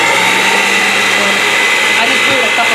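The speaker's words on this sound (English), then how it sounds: "She switches to a hand mixer." A hand mixer whirs steadily on low while beating cake batter, a continuous loud motor drone filling the whole moment with a slight pitch wobble near the end.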